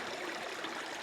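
Steady, close rushing of flowing stream water, a continuous broadband wash with no pauses or voices.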